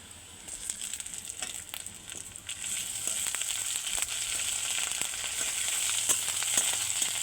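Ginger paste sizzles with onions in a pan, a soft crackle at first that swells into a loud, constant hiss of frying, with no talking.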